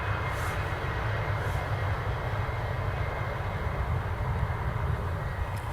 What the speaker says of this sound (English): The FlexJet landing on the other side.